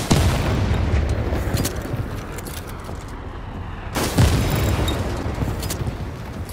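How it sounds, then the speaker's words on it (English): Artillery explosions in the video game World War 3 land as heavy booms, one at the start and another a few seconds later, over a dense rumbling battlefield din. "Enemy artillery fire incoming."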